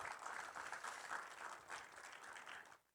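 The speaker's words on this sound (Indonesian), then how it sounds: "Tepuk tangan bagi Tuhan Yesus." A church congregation in Jababeka, Indonesia, bursts into steady applause, dense clapping filling the room before fading out at the end.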